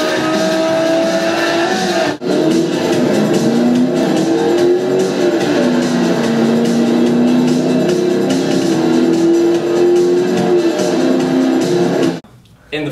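McLaren SLR supercar, 626 brake horsepower, racing: a loud, sustained engine roar with gliding pitch as it revs through gears, under talk, cutting off abruptly near the end.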